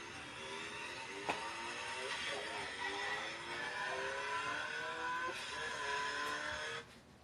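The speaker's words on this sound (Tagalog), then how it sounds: "Ang tunog ng isang motorsiklo ba ay malakas o mahinang tunog?" A motor engine drones steadily for several seconds, its pitch rising and falling as though revving, with a faint click near the start and the sound dropping away abruptly at the end.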